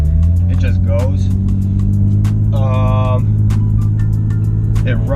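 A 2017 Lexus IS 350 F Sport drives under acceleration with a steady, loud engine drone from inside the cabin, and brief tire and road noise, while a voice talks over it.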